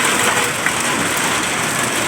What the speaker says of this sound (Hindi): बहुत जोरों से बारिश लगी है।